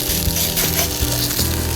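A Vietnamese crepe lands back in a hot frying pan, setting off a loud, steady sizzle that runs the whole time with a few soft knocks of the pan and spatula.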